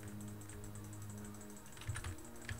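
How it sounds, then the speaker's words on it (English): Rapid, steady mouse clicks repeat in a fast rhythm during a Roblox monster battle game, sitting over a low, continuous hum of game music. "I'm just spam clicking."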